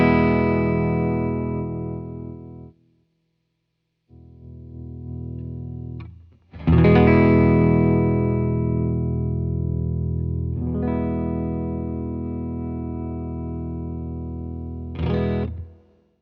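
Fender Jaguar electric guitar heard through its own separate volume and tone circuit: ringing chords strummed and left to sustain and decay, several separate strikes with short silent gaps between them, close and clear with effects coloring.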